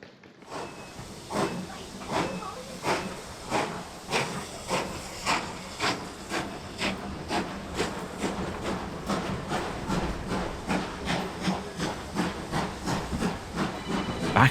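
A steam locomotive on the Worth Valley Railway in West Yorkshire pulls out past the engine sheds, its exhaust chuffing in a steady rhythm that quickens slightly, with hissing steam throughout, fairly close and without talk.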